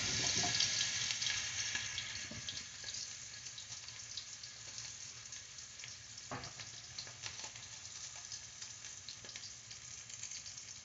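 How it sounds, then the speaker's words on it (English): Smoked turkey legs fry in a hot pot with a steady, bright hiss and crackle, a continuous close sizzle with no talking. "I'll go ahead on and drop these turkey legs in there"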